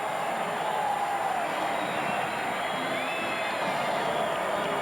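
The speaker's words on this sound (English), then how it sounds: "this crowd is going bananas now" A basketball arena crowd in a Nevada versus UNLV game roars steadily, a dense continuous cheer with scattered whistles and shouts rising above it.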